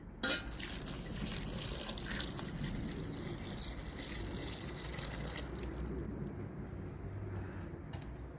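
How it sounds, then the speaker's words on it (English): Water poured into a pot of garden soup outdoors gives a steady splashing, trickling rush that carries on for several seconds, fairly close, with no talking. "So now we're just going to put some water in."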